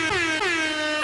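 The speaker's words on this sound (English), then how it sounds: "I found the air horn finally." A single loud, sustained air horn blast sounds for about a second, close and unbroken.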